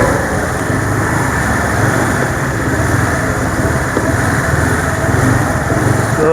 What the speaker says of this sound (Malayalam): ഓ, കണ്ടമാന ബൈക്കുണ്ടല്ലോ.